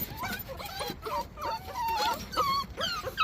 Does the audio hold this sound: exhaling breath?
no